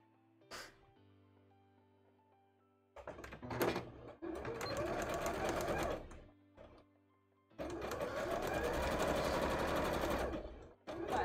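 A sewing machine runs a zigzag stitch on cosplay shorts: a short burst first, then two longer runs of rapid mechanical whirring with clicks and a pause between, close and fairly loud against quiet.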